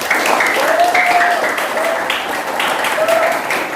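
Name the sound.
audience applause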